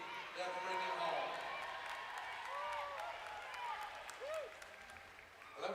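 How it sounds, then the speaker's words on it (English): At an outdoor rodeo arena, a crowd cheers and claps in a diffuse roar with scattered whoops and whistles rising above it, while a voice talks over the din. "I know I can hear several of y'all in the crowd cheering them on"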